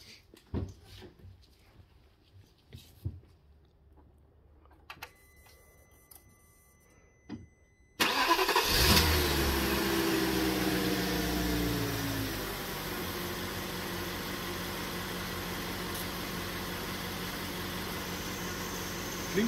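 A VW Passat 3BG with a W8 engine cranks and fires after some faint clatter, then settles into a steady, fairly loud idle heard from the front of the car.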